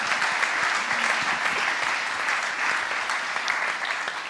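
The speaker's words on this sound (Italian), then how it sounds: "Molto bello, un applauso a Maria Celeste Lauro." Dense, even audience applause fills a conference hall at the EY Capri Digital Summit start-up session, continuous and fairly loud from start to finish with no talk over it.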